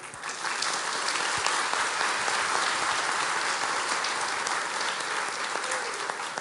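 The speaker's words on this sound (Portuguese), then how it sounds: "peço um aplauso para os que doaram" An audience applauds the food donors, sustained dense clapping from a large crowd that holds at an even level from start to finish, with no talk over it.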